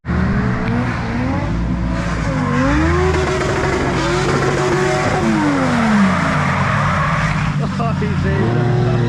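Road car driven on a wet track at Ebisu, engine revving up and down with rising and falling pitch and tire noise, loud and close, with people talking over it.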